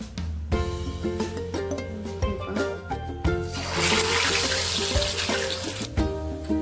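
Batter vada from a Konkan recipe for pitru paksha drops into hot oil, and a bright sizzling hiss swells midway through, over steady background music.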